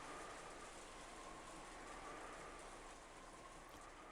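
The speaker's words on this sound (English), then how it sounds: "the sound of the wind and rain began to fill the room bit by bit" Steady wind and rain ambience from the visual novel game Umineko When They Cry, a continuous broadband wash of rainfall with a faint tonal whistle, quiet and even throughout with no voices.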